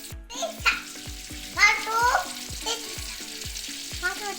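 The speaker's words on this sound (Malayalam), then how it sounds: "ബട്ടർ ഒഴുകി വന്നിട്ടുണ്ട് ഇതിലേക്ക് ഒരു ചെറിയ സവാള കഷ്ണം ഇട്ട് കൊടുത്തിട്ടുണ്ട്" Small onion pieces frying in melted butter in a pan for vegetable upma, a steady close sizzle with regular metallic stirring knocks and brief background voices.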